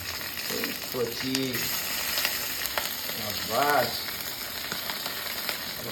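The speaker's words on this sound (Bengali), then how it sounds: "আবার ডিম ভাজছেন" Fish roe frying in a pan after fish, a loud steady sizzle with stirring, while a person talks briefly in the background twice.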